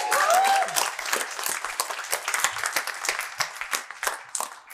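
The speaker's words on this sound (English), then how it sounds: "let's give a round of applause" A comedy show audience applauds and cheers, with dense clapping that starts loud and tapers slightly, plus a brief whoop near the start.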